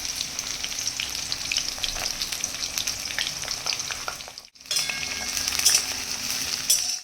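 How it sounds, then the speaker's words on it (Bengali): Capsicum frying in a pan, a continuous crackling sizzle heard close up with faint clinks, briefly dropping out midway before resuming steadily, with no voices. "সেই ক্যাপসিকামগুলো একটু ভেজে নিচ্ছি"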